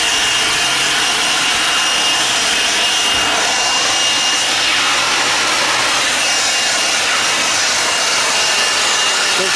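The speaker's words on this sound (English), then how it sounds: "we thought we'll use the blower and get them to dry quicker" Loud, steady rushing airflow from a blower drying freshly cleaned K&N air filters for a Mercedes AMG E55, a constant broadband roar lasting throughout with no pauses.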